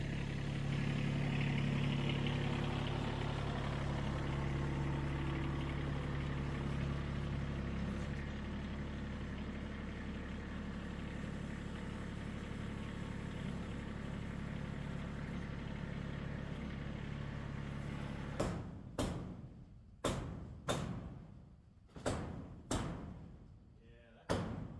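A low tractor engine drones steadily for most of the stretch, then several sharp, loud knocks or slams punctuate the end.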